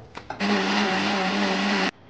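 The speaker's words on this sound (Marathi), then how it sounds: "हा भाजलेला मसाला घालूया आणि सगळं ग्राइंड करून घेऊया" A mixer grinder motor whirs loudly and steadily for about a second and a half while grinding roasted spice masala, then cuts off abruptly.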